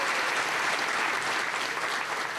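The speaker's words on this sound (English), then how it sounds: "I think he deserves a great round of applause." Steady, dense applause from an audience at a youth recognition awards ceremony, sustained and even throughout with no pauses.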